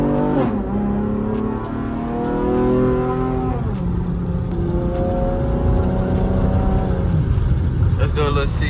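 A very loud 5th-generation Camaro engine heard from inside the car, revving up through gears with rising, falling tones as it accelerates, steady and close throughout.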